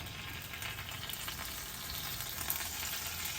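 An omelet sandwich with moringa leaves fries in butter in a pan, giving a faint, steady, distant-sounding sizzle with no talk.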